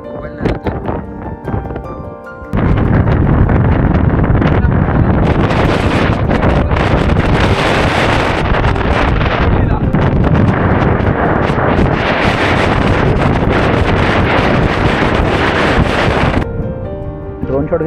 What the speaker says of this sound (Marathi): खूप वारा आणि खूप पाऊस आहे कंटिन्यू